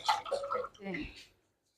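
Water poured from a cup into a cooking pot for palak gosht, a short splashing gush that tails off into quiet, heard close and fairly soft.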